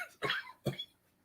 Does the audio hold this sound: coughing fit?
yes